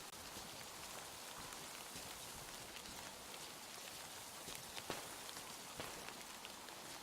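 Steady rain falls in the video game Metro Exodus, a constant soft hiss with scattered drips and patters close by, and no voices.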